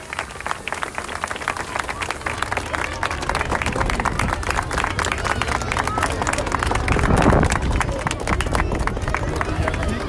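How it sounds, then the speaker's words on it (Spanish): Large crowd applauding and cheering at an outdoor Christmas tree lighting in Tepeaca, Mexico, steady dense clapping throughout with a swell near the end, under an amplified announcer's voice. "Fuerte aplauso, señores y señoras, para este inicio de la Navidad 2019"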